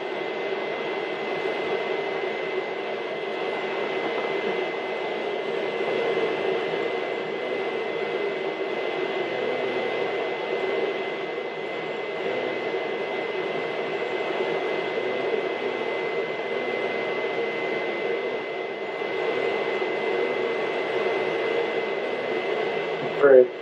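A laser cutter in a school maker space runs a cutting job, giving off a steady, even droning hum with airy exhaust noise that holds unchanged throughout, at moderate level.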